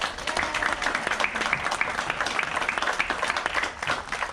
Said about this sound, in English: Please give a big round of applause to Delegate Israel Apun.